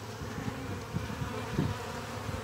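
Honeybees buzz steadily in a hive close by, a soft, continuous hum with small swells, and no voices over it.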